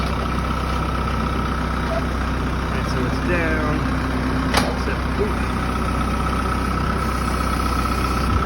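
A tractor engine idles with a steady low rumble throughout, close by at a sawmill, while someone talks briefly over it.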